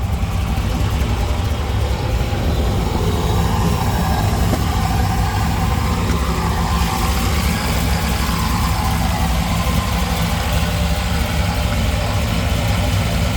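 Supercharged 1968 Chevrolet Camaro with a big blower and roller rockers idling under the open hood, a loud, constant, close engine rumble with a busy mechanical whine layered on top, no talking.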